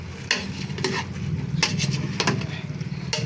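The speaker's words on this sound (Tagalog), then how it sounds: "Haluin lang natin siya kaunti." A spoon stirs chopped chayote in a simmering pot of tinola, chicken soup, with soft scraping clatters against the pot over a low bubbling hiss, a few distinct stirring knocks in a short stretch.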